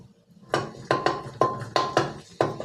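Shrimp paste stir-fried in a pan over low heat, heard as about six sharp, close spatula knocks and scrapes against the pan at a fairly even rhythm.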